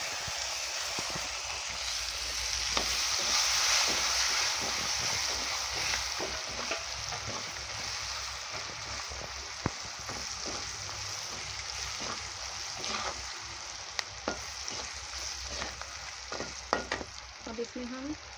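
Chopped onion sizzles steadily in oil in a pan for aloo curry, a dense continuous frying hiss with scattered spatter pops and occasional stirring clicks, close and fairly loud throughout with no talking.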